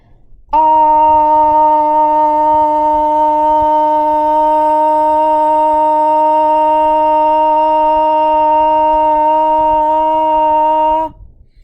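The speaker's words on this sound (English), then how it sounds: "Up next, we have the sustained ah exercise." A single steady sung "ah" vowel held evenly for about ten seconds as a voice exercise for Parkinson's disease, loud and close, with no breaks or pitch change.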